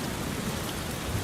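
Steady rain falls at night, a dense, even hiss of drops with no pauses or voices, heard close and moderately loud.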